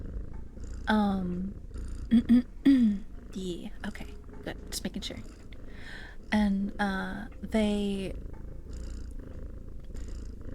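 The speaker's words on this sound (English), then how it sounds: "Thank you for the cat purrs." A cat purrs close to the microphone as a low, steady rumble, running beneath a person's ongoing conversational speech for most of the clip.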